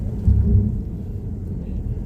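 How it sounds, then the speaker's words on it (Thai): Rain with low thunder heard from inside a BMW G30 car, a loud continuous rumble and patter that swells briefly near the start, with no talking. "ฝนตกไม่ค่อยชอบเลย"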